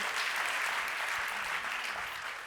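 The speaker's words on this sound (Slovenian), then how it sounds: "Dajte še en aplavz." Audience applause at an award ceremony for business-model prize winners, a continuous soft wash of many hands clapping at some distance, fading slightly toward the end.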